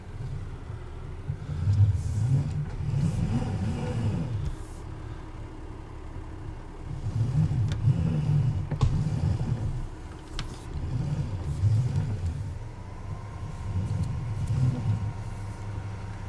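A tractor engine in Farming Simulator 19 labours in a steady low rumble for the whole stretch, its drone swelling and easing in repeated surges as if under heavy load, with no voices.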